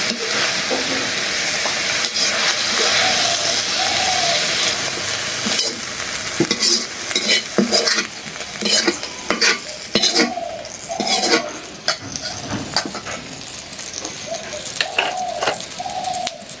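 Oil sizzles steadily in a pan as atta (flour) is fried and stirred for a bagar tempering before dried chillies go in, with scraping stir strokes and a few clinks over a continuous hiss, birds chirping faintly in the background.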